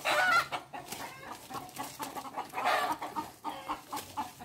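Chickens cluck in short, uneven bursts around freshly harvested taro, moderately close, over a soft rustling outdoor background.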